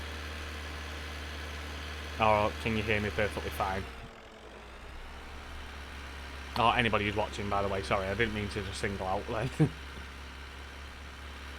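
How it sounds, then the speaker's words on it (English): Tractor engine in Farming Simulator 19 drones steadily at a low, even pitch throughout, running beneath someone talking in bursts. "Because I know this tractor can be incredibly loud."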